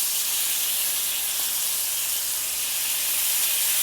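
Pork belly (liempo) sizzling in a hot pan, a steady, bright frying hiss that holds at an even level throughout with no talk.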